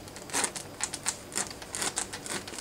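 A knife cuts through the thick, spiky husk of a durian fruit, giving a series of quiet, crisp clicking and cracking snaps in an irregular rhythm.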